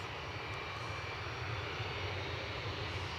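Steady, continuous aircraft engine drone at Edinburgh airport with a low rumble, sustained and fairly loud throughout without breaks.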